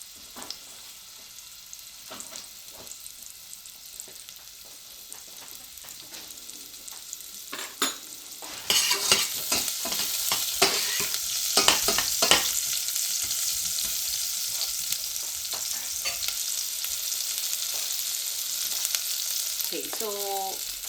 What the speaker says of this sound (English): I'm just going to saute down the onions for about 2 minutes